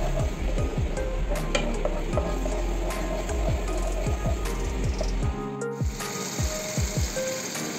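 Yogurt being stirred into spiced chicken biryani masala in a wok, with a steady, loud sizzle of frying throughout and repeated rhythmic scraping strokes of the spoon, close up.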